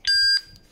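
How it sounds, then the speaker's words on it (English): A single loud electronic beep lasting about a third of a second, followed by fainter chirps, from an NVS002 security camera as its reset button is long-pressed. "Until you hear a beep sound like this,"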